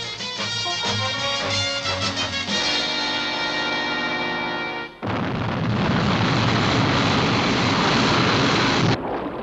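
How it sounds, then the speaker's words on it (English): Sky 1 aircraft from the TV series UFO lifting off: orchestral music gives way at about the halfway point to a loud, sustained, broadband engine roar that holds steady, then cuts off abruptly. "Stand by for liftoff."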